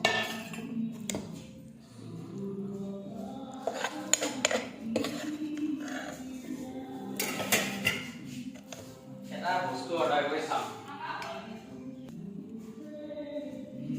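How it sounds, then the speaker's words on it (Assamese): Steel utensils clink and scrape against a plate and pan as hot Maggi noodles are served, with repeated metallic taps and clatter, close, while a person talks. "এয়া এতিয়া মেগী খাম, সেইকাৰণে এনেকৈ প্লেটত উলিয়াইছোঁ"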